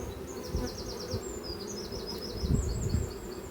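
Honeybee drones buzz at a hive entrance in an apiary, a faint steady droning hum with a few louder passes, while small birds chirp in the background.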